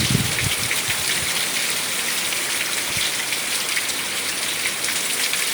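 Heavy rain from a Hurricane Irma rain band pours down in a dense, steady hiss, loud and unbroken and close at hand, with no voices.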